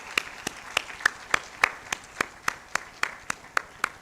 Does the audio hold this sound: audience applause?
yes